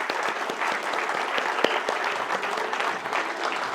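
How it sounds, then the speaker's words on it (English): An award ceremony audience gives a steady round of applause, a dense wash of many hands clapping at moderate distance. "So everyone gives a big round of applause for Chengwang Liu."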